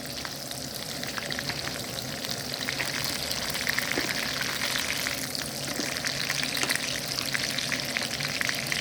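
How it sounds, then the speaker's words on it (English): Steak frying in butter in a pan, a steady dense sizzle and crackle continuing evenly throughout at close range, with no talking. "You take the butter and you put on top of the steak."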